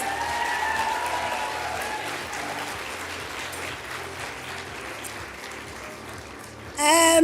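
An audience applauds school pupils announced as winners of a central bank's monetary policy student competition, with steady clapping throughout, some tonal sound early on, and a sudden louder burst at the very end.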